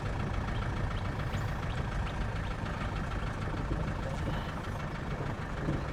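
A 1969 Mercedes 220 diesel runs steadily close by, a continuous low, rumbling engine drone without breaks and with no voices over it.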